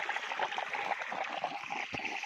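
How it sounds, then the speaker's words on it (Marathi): Water from a motor pump runs along an irrigation line into a pigeon pea field, giving a continuous, close trickling gurgle that holds steady with no voices over it. "आणि ते आपलं पाणी चालू आहे"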